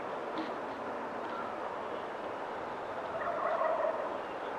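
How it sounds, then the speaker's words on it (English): Distant wild turkeys gobble faintly over a steady outdoor background hum in San Antonio, with a brief louder burst of gobbling near the end. "The damn turkeys are at it again."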